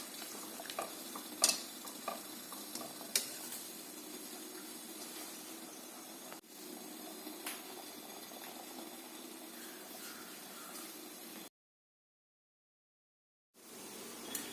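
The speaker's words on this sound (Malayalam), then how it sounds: "കടലക്കറി തിളച്ചു." Chickpea curry (kadala curry) boils in a pot on the stove with a soft, steady bubbling hiss and a few sharp clicks. It stops abruptly into a short silence, then resumes.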